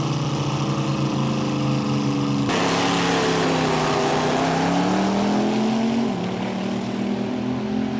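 Competition eliminator drag race cars, including the Chevy Brothers Altered, at a 1970 drag strip, roaring loudly with sustained engine tones that shift pitch as they pass close by.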